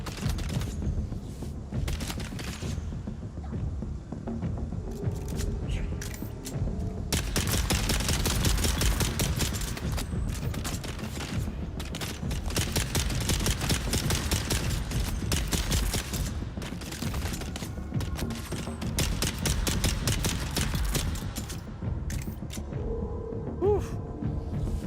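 Rapid bursts of video game gunfire crackle in a dense, sustained barrage, thinning and swelling over time, with a voice talking faintly beneath.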